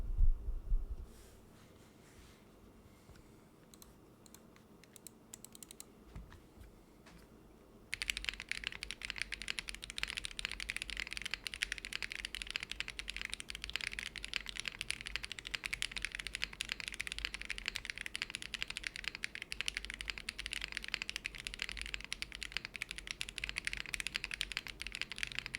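Steady, rapid clicky typing on a Cherry MX Blue mechanical keyboard, continuous and close for most of the stretch after a quieter start.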